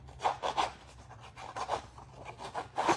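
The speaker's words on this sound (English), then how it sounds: "I'm going to open my scissors and I'm just going to do a real quick scuff" Open scissors blade scuffing the edges of paper for a crafted paper pumpkin project, a few quick close raspy rubbing strokes in short bursts with brief pauses between them.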